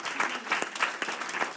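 Audience applause after a talk on power, data and algorithms: a short burst of steady, moderately close clapping from a modest crowd, with no talking.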